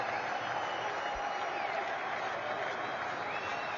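A cricket crowd applauds a Pakistan batsman's debut century against Australia, a dense, steady wash of clapping that holds at an even level throughout with no break.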